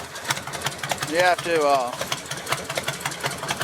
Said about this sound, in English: Those are long shot exhaust system. Sounds pretty good, right?